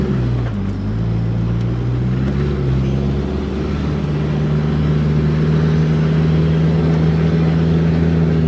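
A loud car engine hums steadily with a rising, droning tone, close and continuous, as the car passes nearby on the way to a beach.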